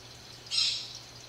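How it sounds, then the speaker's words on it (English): A single brief bird squawk or call sounds from outside, moderately loud against a quiet room with a faint steady hum. "Birds, I'm not talking to you right now."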